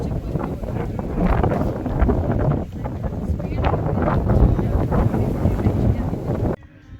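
Strong wind buffets the microphone in loud, roaring gusts that rise and fall continuously, with a brief lull partway through, and it cuts off abruptly at the end.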